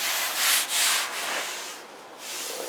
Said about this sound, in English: There's a little excess, so that's stuff I gotta go around and sand.